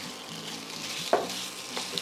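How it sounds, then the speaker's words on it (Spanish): Ground chicken fries in hot oil in a pan, a close, continuous sizzle with a sharp scrape of stirring partway through. "Cuando ya esté bien caliente, vamos a agregar la carne molida de pollo."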